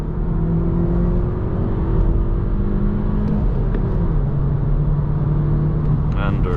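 BMW F21 1 Series hatchback accelerating onto a dual carriageway, heard from inside the cabin as a loud, continuous low engine drone and road rumble with a rising tone as speed builds.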